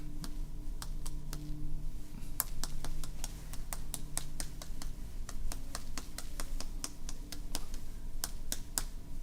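Rapid, sharp clicking taps repeat steadily and close by as a painting brush is knocked against a surface during Asian brush painting, over a low constant hum.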